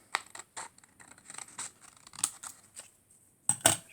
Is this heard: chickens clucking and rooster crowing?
no